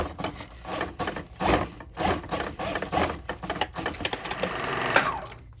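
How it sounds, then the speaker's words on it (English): A serger stitches through fabric layers with a dense, fast mechanical whirr, rising and falling in bursts as the cloth is fed through, close and steady with no talking. "So this is called a serger."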